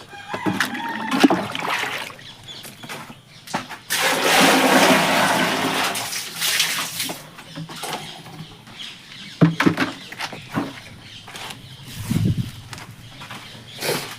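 Water running into a bucket for cleaning a bathroom, a broad steady rush that swells loud in the middle and then gives way to shorter splashes and clatter.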